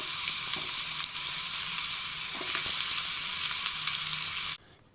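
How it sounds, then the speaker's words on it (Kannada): Cucumber pieces sizzle loudly and steadily in hot oil with a mustard seed, curry leaf and dried chilli tempering, a continuous bright frying hiss that stops abruptly near the end. "ಸೌತೆಕಾಯಿ ಹೋಳುಗಳನ್ನು ಹಾಕ್ತೀನಿ."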